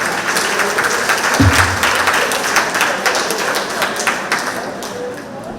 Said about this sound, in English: Could we bring her on with a round of applause?